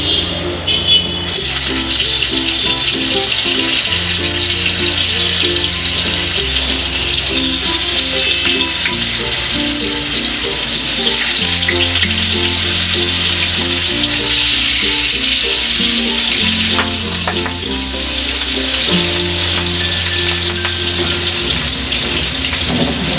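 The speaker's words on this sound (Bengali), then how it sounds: "সেই তেলের ভিতর এখন আমি সেই মাছগুলি এখন আমি দিয়ে দিব।" Rui fish frying in hot oil in a frying pan, a loud, steady sizzling hiss that runs the whole time beneath background music.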